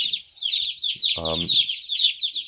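Chickens from a box of 75 birds cluck and chirp continuously, close and lively, with a short low voice-like burst partway through.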